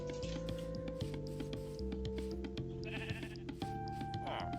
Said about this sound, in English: I have this tiny little sheep farm.